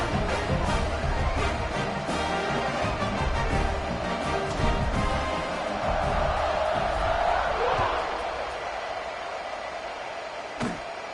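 Football stadium crowd at a college football game roaring steadily through a broadcast, a dense wash of cheering and noise held loud throughout, with a commentator talking over it.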